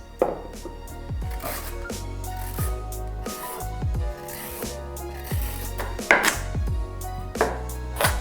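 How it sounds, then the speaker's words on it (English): Knife chopping a large carrot on a board for spicy chicken fried rice, a steady series of close, crisp thuds with brief pauses between runs of cuts, no talk. "Cut the large carrot"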